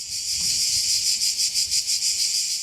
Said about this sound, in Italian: avete presente il suono delle cicale d'estate?